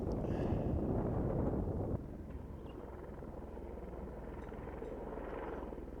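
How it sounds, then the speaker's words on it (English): A helicopter passes overhead on the Everest Base Camp trek, heard as a steady broad rumbling roar mixed with wind buffeting the microphone; it is louder at first, then eases to a softer, continuing drone. "The helicopter that just flew over is on its way to Loboshe to pick up a body."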